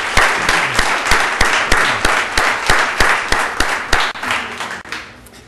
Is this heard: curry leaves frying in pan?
no